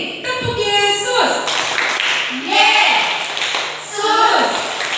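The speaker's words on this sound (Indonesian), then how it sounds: "Tepuk Yesus" Children in a Sunday school service chant together in a rhythmic clapping call-and-response, their bright voices rising and falling in short repeated phrases while light claps tap along beneath.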